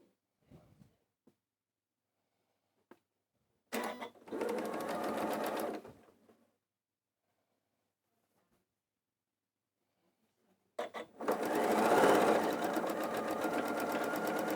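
A domestic sewing machine stitches the final seam of a patchwork quilt block in two close, steady runs: a shorter burst followed by a longer one, with quiet pauses and faint handling noises between them.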